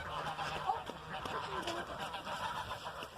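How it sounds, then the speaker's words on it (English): Ducks honk and quack in a backyard garden, a few close, nasal calls scattered over a soft background as they splash around getting water. "There's the ducks, happy as can be,"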